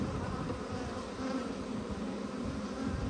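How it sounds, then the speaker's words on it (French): Honeybees buzz in a dense, continuous drone at an overflowing hive during queen rearing, a close swarm humming steadily with no pauses. "Les abeilles sont en train d'essayer de battre leur appel"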